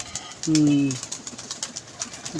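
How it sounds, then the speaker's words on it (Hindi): A pigeon held in the hand gives a short, low coo, a single tonal call standing out against faint background noise and distant chatter. "कैसा कबूतर है यार"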